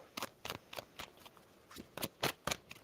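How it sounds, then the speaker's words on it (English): Tarot card deck shuffled by hand in quick riffling bursts, about ten soft rustling strokes in an even rhythm, quiet and close with no talk. "All right, 2 shuffles."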